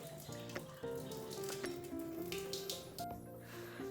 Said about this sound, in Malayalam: വെള്ളം കളഞ്ഞെടുക്കാം കേട്ടോ.